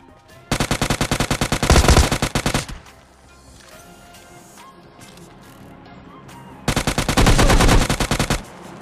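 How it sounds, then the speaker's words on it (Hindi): Two long bursts of rapid automatic gunfire in a PUBG Mobile Lite match, loud and close, with a quieter stretch between them and faint background game sound. "लेकिन साइड से गोलियां पड़नी स्टार्ट हो जाती हैं।"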